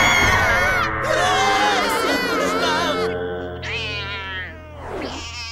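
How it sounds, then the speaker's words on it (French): A cat meows repeatedly in drawn-out, wavering cries during a nighttime extreme street football game, with crowd noise and cheering behind it. "Vous reconnaissez pas un miaulement de chat?"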